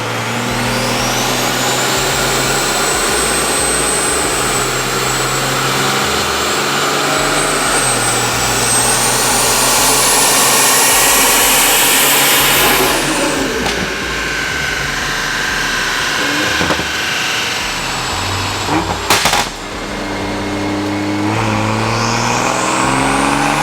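A BMW B58 inline-six fitted with a budget turbo kit revs hard and loud, climbing steadily to a high screaming pitch, dropping off, then blipping and rising again, with no talking over it.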